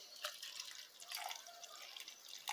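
Water poured into a cup, 200 ml measured out while mixing a clear sheet-washing solution, giving a faint, soft trickling and dripping that runs for a few seconds, with a slightly louder splash at the end.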